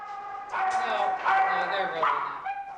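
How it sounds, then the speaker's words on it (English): Dogs at the Cedar Valley Humane Society animal shelter bark and yip several times in close, quick bursts, with whimpering between the barks. "The Cedar Valley Humane Society can be a noisy place, but the dogs here know a good thing"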